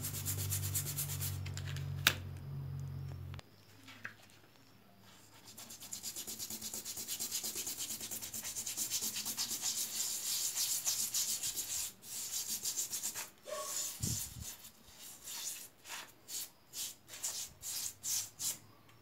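A large bathroom stone is scrubbed clean with rhythmic rubbing and abrasive scraping strokes, close and continuous, growing more vigorous and choppy toward the end.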